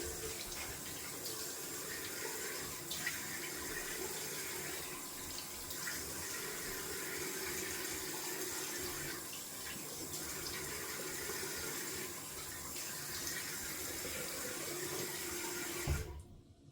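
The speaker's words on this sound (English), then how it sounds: "We're gonna rinse it with cold water." A cold tap runs steadily for rinsing after a shave, water splashing into a basin with a constant hiss, fairly quiet, then cut off abruptly at the end.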